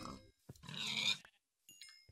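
Pigs in a survival video game grunt and squeal in a few short bursts, one longer nasal squeal in the middle, with brief gaps of silence between calls, close and fairly clear.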